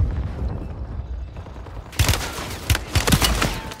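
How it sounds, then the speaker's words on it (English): Rapid bursts of automatic rifle fire from a Kastov 762 in the Warzone 3 video game erupt after a quieter stretch, several sharp volleys crackling in quick succession at close range. "I'm taking fire."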